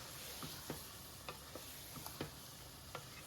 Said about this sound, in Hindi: सारे स्पाइस को करते हैं अच्छी तरह मिक्स करके।